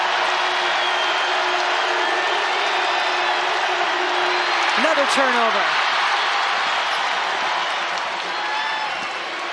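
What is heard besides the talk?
basketball arena crowd getting loud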